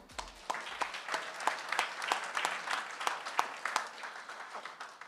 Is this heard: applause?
yes